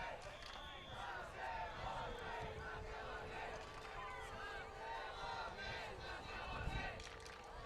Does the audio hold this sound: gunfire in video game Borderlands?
no